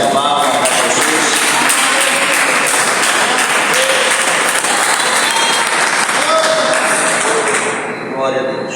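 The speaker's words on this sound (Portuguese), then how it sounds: "Quem pode dar uma salva de palmas para Jesus?" A church congregation claps together in sustained, dense applause that holds steady for several seconds before tapering off at the end.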